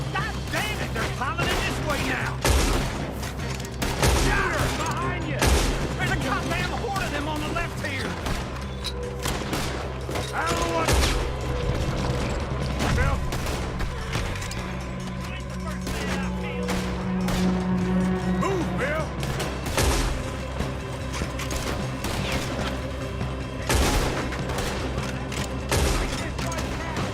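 Gunfire in a Red Dead Redemption 2 shootout, with dense rapid shots and bursts cracking nonstop and some heavier booms, while voices talk and shout over the fighting.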